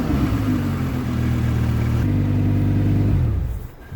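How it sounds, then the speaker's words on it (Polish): A Lamborghini Huracan LP 610-4 Spyder with a 5.2 V10 and optional sport exhaust revs loudly up close, holding a strong droning note with a clear pitch step before dropping away near the end. "Testowany egzemplarz był wyposażony w opcjonalny sportowy wydech, ale i bez niego Lambo brzmi cudownie."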